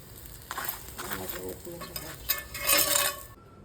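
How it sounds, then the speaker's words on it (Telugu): Layered chapatis roast with ghee on a hot pan, giving a soft steady sizzle with scraping and stirring strokes that swell toward the end, close by and moderately quiet. "పిల్లల కోసం ఆయిల్ బదులు కొంచెం నెయ్యి వేస్తే కాల్చుతున్నాను."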